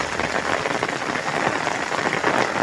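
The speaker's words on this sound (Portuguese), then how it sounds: "Ei, Bruno Barbosa, e Francisco, tá alegre com a chuva?" Heavy rain falls on a Thursday afternoon outdoors, a dense, constant hiss of downpour that stays loud and even throughout, with no voices.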